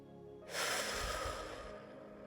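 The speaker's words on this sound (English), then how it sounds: "let's take a deep breath in. And let it go." A single deep breath: a sharp, close inhale swells into a broad, airy rush, then eases into a long, steady exhale that fades softly, with no talk.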